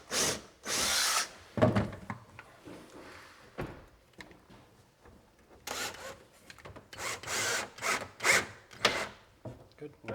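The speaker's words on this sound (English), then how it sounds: "I'm going to put a pilot hole in here and try to hit this stile from this side" A power drill bores a pilot hole into a kitchen cabinet stile in a house under renovation, in several short whirring bursts separated by pauses, with light handling and rubbing noises between them.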